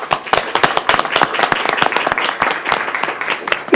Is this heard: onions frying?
no